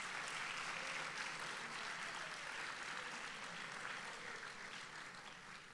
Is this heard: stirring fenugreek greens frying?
no